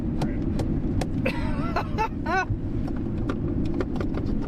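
A Jeep Grand Wagoneer engine, revived after sitting seized for years, roars steadily at wide open throttle with the pedal stuck to the floor, loud and close, while a voice talks briefly over it.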